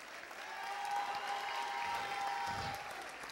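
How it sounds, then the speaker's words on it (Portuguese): An audience claps loudly at a comedy show, a dense, continuous burst of close applause that holds for a few seconds with faint crowd noise underneath. "Dá um aplauso pa Mener Juni Joseph"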